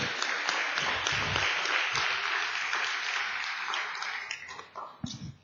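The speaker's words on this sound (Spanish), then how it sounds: "denle un aplauso al Señor." Sustained applause from a church congregation fills the space, steady and dense, then thins toward the end into scattered claps.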